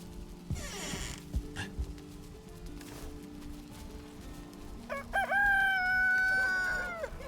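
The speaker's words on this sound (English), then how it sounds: "The cock-a-doodle-doo, as we call it in America." Rooster crowing in the Valheim video game, a loud drawn-out cock-a-doodle-doo near the end, preceded by clucking and scattered game sounds.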